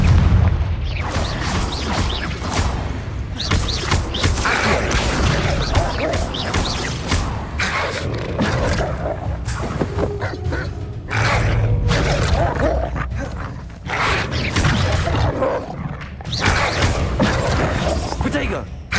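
Explosive Confringo spell blasts in Hogwarts Legacy, heavy booming rumbles and crashes in a dense, constant battle din, with a voice talking over the noise.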